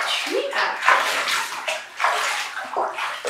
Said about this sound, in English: They might not like the sound of this water splashing.